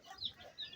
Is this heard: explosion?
no